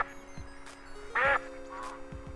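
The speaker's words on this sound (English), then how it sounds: "Why are there so many ducks here?" Ducks quacking, with one loud, near quack standing out among fainter scattered quacks over a steady background tone, with no one talking.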